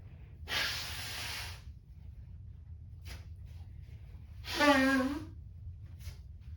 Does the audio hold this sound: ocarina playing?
no